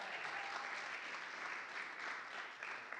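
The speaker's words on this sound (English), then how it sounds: "I've given him a round of applause." Steady, even applause from a church congregation fills the whole stretch, dense and continuous at moderate distance with no break.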